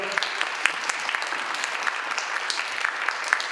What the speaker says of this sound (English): I want to please ask you if you would join me in applaud for Henri and Defour